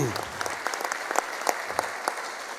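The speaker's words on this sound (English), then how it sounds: "One more round of applause." Applause from the audience at a fire academy graduation ceremony: a steady wash of many hands clapping, with sharper individual claps rising above it and a voice briefly heard underneath.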